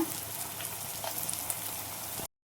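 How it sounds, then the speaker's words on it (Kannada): Spices roasting in a hot pan for masala chitranna give a steady, close sizzle and crackle throughout, with a few brief stirring clinks, and no talking. "ಇದೆರಡು ಚೆನ್ನಾಗಿ ರೋಸ್ಟ್ ಆಗಲಿ"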